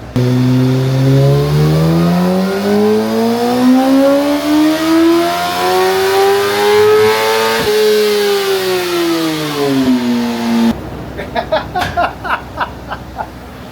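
A 2008 Yamaha R1 motorcycle engine revving on a dyno while not fully warmed up, loud and close, climbing in pitch through a long sweep and easing off briefly mid-run before winding down, followed by sharp popping bursts.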